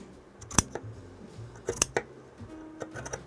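Scissors snipping through wool yarn fringe on a weaving loom, two or three crisp close cuts with quiet handling between them.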